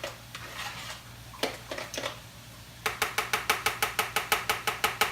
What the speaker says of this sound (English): I'm just going to take my spoon and kind of mix together the sour cream and the cottage cheese